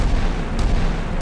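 A DragonFire laser weapon in a war game fires as a dense, continuous rumbling roar with two brief bright bursts, loud and close throughout.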